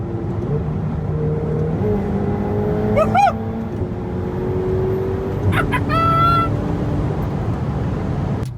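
A Ferrari 488 Spider engine hums steadily with rising and falling tones as it shifts while driving, loud and close, with short bird-like chirps layered on top.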